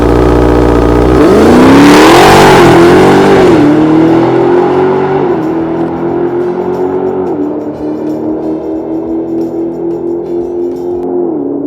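A Dodge Demon 170 drag car launches at full throttle on a drag strip, its engine roaring loud and close, climbing sharply in pitch and then holding a sustained high rev as the car pulls away.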